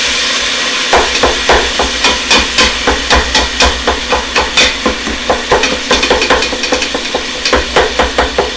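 Meat chunks cooking in a pan are broken up with a utensil, a long run of sharp, rhythmic scraping taps over a steady sizzle, close and fairly loud.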